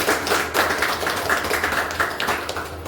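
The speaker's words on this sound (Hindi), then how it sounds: "इनके लिए एक जोरदार ताली होनी चाहिए" Audience clapping at a company achievers event, a steady patter of many hands with soft rhythmic peaks, moderately close and continuous, with no one talking over it.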